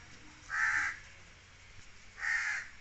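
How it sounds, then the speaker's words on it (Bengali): Two loud, close crow caws about two seconds apart, each a harsh drawn-out call standing alone over faint background. "ক্রোটা কোথায় বাবা? ডাকছে মা।"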